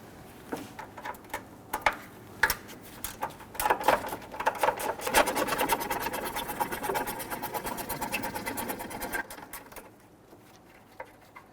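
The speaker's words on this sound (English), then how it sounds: "Go ahead and loosen and remove these. We're going to use a wrench for the lower." Wrench loosening the 12mm bolts on a 2006-2012 Toyota RAV4 3.5L radiator fan assembly: sporadic clicks build into a run of rapid ratcheting, close and moderate in level, then fade out.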